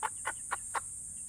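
Golden buff chickens clucking, four short evenly spaced clucks close by over a steady high-pitched background hiss.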